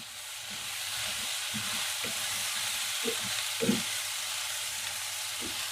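Brinjal pieces frying on high heat in a pan, a constant sizzling hiss broken by intermittent scraping stirs of a spatula.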